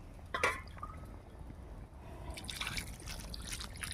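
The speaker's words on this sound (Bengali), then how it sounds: "এবার জল ঢেলে দিচ্ছি," Hot water poured into a pot of chicken curry cooking over a wood-fired stove, giving a faint, brief splash and trickle early on, then more liquid noise later over a steady low background.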